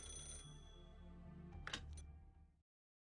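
A game phone in Fate/Grand Order gives one short ring, then a couple of sharp clicks as the call is picked up, and everything cuts to silence.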